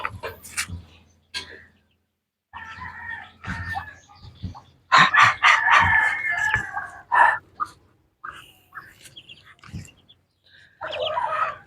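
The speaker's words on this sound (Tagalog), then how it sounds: "Dito yung mga manok." Chickens cluck and a rooster-like call rises in bursts, with gaps of quiet between the calls, close by and fairly loud, from free-ranging chickens in a backyard in Aklan, Philippines.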